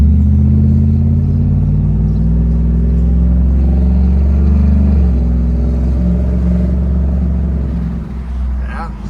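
A 2019 Ford F-150 with the Coyote 5.0 V8 and an MBRP exhaust rumbles loudly and close, a deep, steady throb that holds for several seconds before easing slightly at the end.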